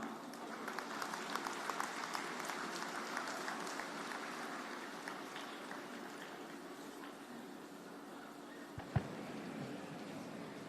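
Audience applause at a university convocation ceremony, a steady wash of clapping from a large crowd sustained throughout, moderately distant, with one brief sharp knock near the end.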